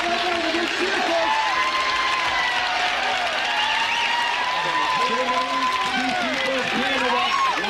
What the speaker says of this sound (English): The big cheer, folks.